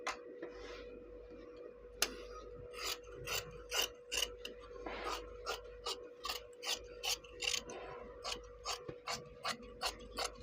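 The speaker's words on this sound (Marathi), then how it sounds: "आता मी पॅटर्न उचलते, कटिंग करून घेते." Scissors snip through blouse fabric along a paper pattern for a size 36 katori blouse, a quiet, steady run of crisp cuts repeating roughly every half second, with no talking.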